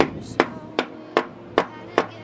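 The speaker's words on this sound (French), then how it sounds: "c'est un marteau pour les enfants" A children's toy hammer bangs five times in an even, unhurried rhythm, each strike a sharp, close knock that stands clearly on its own against a quiet room.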